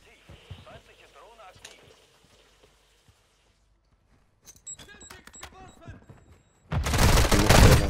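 Video game gunfire from a shooter match, with people talking over scattered shots early on, then a loud dense burst of rapid automatic fire at the end.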